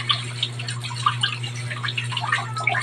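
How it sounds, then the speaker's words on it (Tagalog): Moringa leaves are rinsed under running water, giving close patter and scattered drips over a constant low hum, with no one speaking. "Hugasan ko muna"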